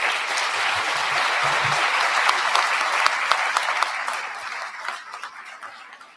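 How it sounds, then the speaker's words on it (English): An audience at a university scholar awards ceremony gives award-winning students a strong round of applause, dense clapping that holds steady and then gradually tapers off near the end. "Friends, please join me in applauding these amazing students."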